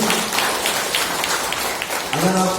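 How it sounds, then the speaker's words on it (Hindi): A church congregation claps together, a dense, steady wash of applause that holds evenly throughout, with a voice faintly present underneath. "कोई ताली बजाओगे?"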